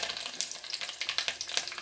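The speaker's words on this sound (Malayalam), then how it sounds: "ഇനി കറിവേപ്പില ഇട്ട് കൊടുക്കുകയാണ്." Curry leaves sizzle in hot oil, tempered with popped mustard seeds for a potato masala, giving a close, steady crackling hiss with quick spitting pops throughout.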